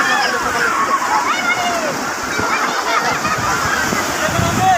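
Strong sea water churns and splashes where fishermen cast nets near a crowded bathing beach, a constant loud rush of waves beneath continuous talking.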